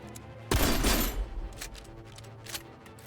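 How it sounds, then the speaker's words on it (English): A shotgun fired in a video game: one heavy, close blast with a booming low tail, followed by fainter scattered pops and clicks at a distance. "And use the shotgun."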